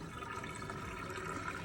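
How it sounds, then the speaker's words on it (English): Hot water from a pot of freshly boiled eggs is dumped into a kitchen sink, a continuous close rushing splash that stays steady throughout. "So now I'm going to put them in my sink. I'm going to dump the hot water"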